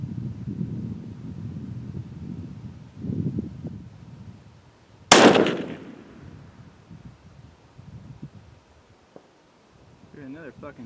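A single sharp, loud crack from a 6.5 Creedmoor rifle firing at a 1000-yard target stands out midway, followed by a fading tail, with quiet talk and light wind noise before and after.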